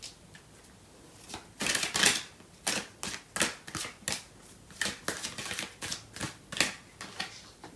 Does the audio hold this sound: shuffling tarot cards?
yes